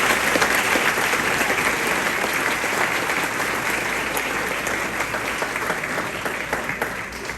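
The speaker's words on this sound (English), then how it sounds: "Please give them a round of applause." Sustained applause from a luncheon audience fills the room, a dense steady wash of many hands clapping that continues throughout at an even level.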